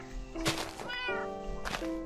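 A cat in a Minecraft video game meows twice, drawn-out and tonal, close by, with a short rustly pause between the calls.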